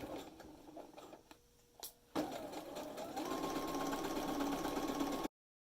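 A sewing machine topstitches bias facing along a fabric neckline edge. A few soft handling noises come first, then a steady, close mechanical whir runs for about three seconds before cutting off.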